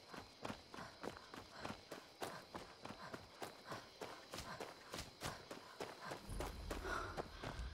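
Footsteps of a character walking on foot in the Skyrim video game, near a city gate: a steady, evenly spaced series of soft crunching steps, quiet and close, with a low rumble joining near the end.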